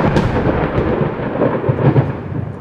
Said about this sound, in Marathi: आकाशात विजा चमकत होत्या.